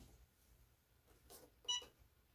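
A Cricut EasyPress 2 heat press timer gives two short electronic beeps close together. Both are faint and sit over a quiet low hum.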